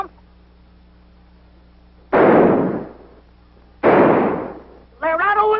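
Two loud, booming gunshots from a large gun, fired about two seconds apart in a 1940s film scene, each one decaying over roughly a second, followed by a shouting voice.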